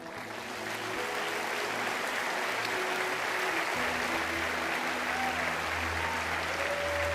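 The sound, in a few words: audience applause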